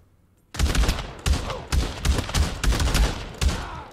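Gun firing in the VR shooter Pavlov, offline gun mode on PSVR2: after a brief quiet start, a string of about eight loud, close, punchy shots in an uneven rhythm with echoing tails.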